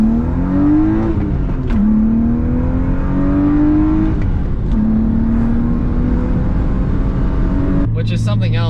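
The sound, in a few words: BMW E36 M3 single Vanos engine revving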